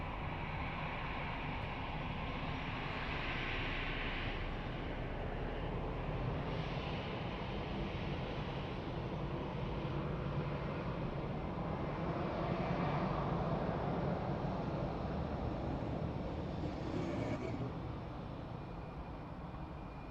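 Ryanair airliner arriving at Lisbon Airport, heard from a distance as a faint, steady jet roar that swells slightly midway and fades toward the end.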